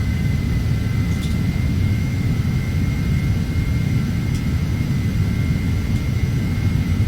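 Simulated Phenom 300 jet engines in Prepar3d drone steadily during a climb, a constant loud low rumble with a faint high whine, with no talk.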